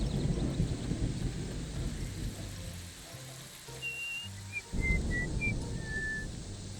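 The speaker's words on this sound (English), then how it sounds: "You see, there's the whistling sound." A short whistled melody of several clear, sliding notes plays over a low rumbling ambient bed in the Fallout 3 Tranquility Lane simulation, the tune emerging midway and sounding moderately faint and distant.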